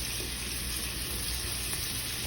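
Peppers and onions fry in a hot skillet for a keto brunch, giving off a steady, even crackling hiss at moderate volume, close by, with no voices over it.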